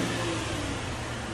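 Stock exhaust of a Cadillac CTS with the 3.6L V6 revving, a steady, loud, close engine roar held for a moment with no talking.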